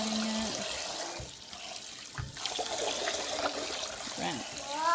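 Tap water runs and splashes into a bowl as blueberry-dyed yarn is rinsed by hand, a soft steady trickle with intermittent sloshing close by.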